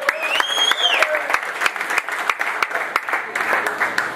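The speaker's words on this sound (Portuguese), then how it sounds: "Salve de palmas para o Hugo" Audience applause at a live concert at Beat Club, steady dense clapping with a few sharp claps standing out, some whistles or cheers rising early on, loud and continuous throughout.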